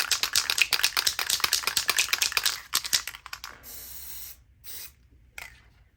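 A spray paint can is shaken hard at close range, the mixing ball rattling in a fast, loud clatter for about three seconds before it stops and only faint room noise and small handling sounds remain.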